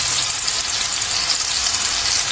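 Chicken hariyali tikka pieces frying in a pan, a loud, steady close-up sizzle of hot oil with continuous bright crackling and no pauses.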